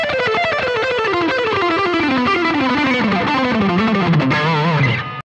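An electric guitar with mild overdrive on the neck pickup is alternate picked in a quick, continuous run of warm, slightly gritty notes winding downward, stopping abruptly at the end.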